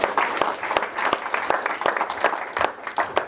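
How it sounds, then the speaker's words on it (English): Audience applause following a tech talk presentation, steady clapping from a crowd with sharp individual claps standing out, sustained throughout. "please put hands together for Sam"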